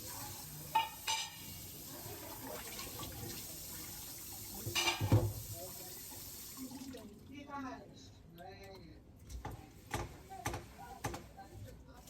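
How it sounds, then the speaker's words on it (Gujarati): Dishes being scrubbed and rinsed by hand in cold weather after tea and thepla, with running water, scraping and light clinks in irregular bursts, near and moderately loud, with a few brief voice sounds. "હવે વાસણ ઘસું છું."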